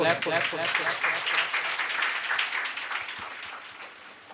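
An audience at a Teacher's Appreciation Day celebration at an English academy claps for a speaker called to the mic, a loud, dense burst of many hands that gradually thins out, with faint voices mixed in.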